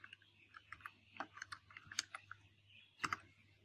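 Fingers tap out a short burst on a computer keyboard, quick irregular clicks up close, a brief pause, then a couple of firmer keystrokes near the end over a low steady hum.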